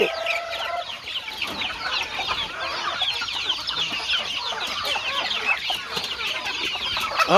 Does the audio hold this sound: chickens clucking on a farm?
yes